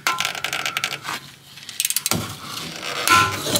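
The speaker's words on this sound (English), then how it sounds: "3/8 ratchet." A compact 3/8 ratchet working on a BMW 428i N20 engine bay: bursts of rapid close clicking from the pawl, pausing briefly between strokes, with occasional metallic clinks of tools.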